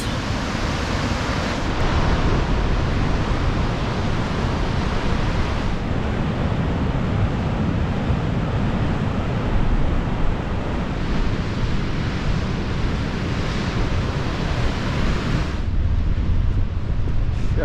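Ocean surf where a river and natural pool drain into the sea on the northern Portuguese coast: a loud, constant roar of breaking water mixed with heavy wind buffeting the microphone, with no one speaking.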